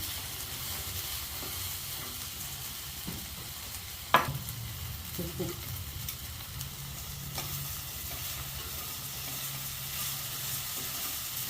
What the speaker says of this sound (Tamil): இப்போ கொஞ்சம் எண்ணெய் ஊற்றி வளர்க்கணும் அப்போ தான் நல்லா வதங்கும்